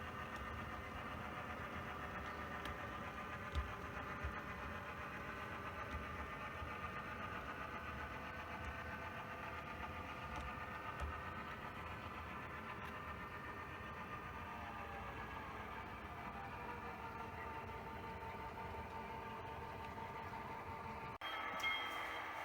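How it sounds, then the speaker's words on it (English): A low, steady rumbling hum of a model train locomotive on a layout running continuously at a distance, faint and even, with a slight change near the end. "I'll back it down where I have just the nose of the lead engine coming out"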